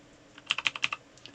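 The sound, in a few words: loud computer keyboard clattering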